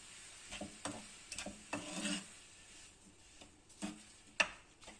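Strawberries being stirred with sugar in a pan, heard as soft scraping and rubbing strokes at an irregular pace, close and fairly quiet, with a sharp tap near the end.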